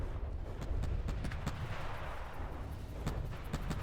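Rapid bursts of weapon fire in the naval combat game From the Depths, a dense series of booming shots over a rumbling low roar, with quick sharp reports repeating throughout.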